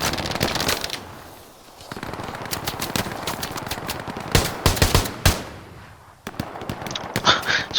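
Gunfire in the World War II shooter Hell Let Loose, including pistol return fire, with dense rapid cracks and bursts from several weapons overlapping in a loud, continuous battle din.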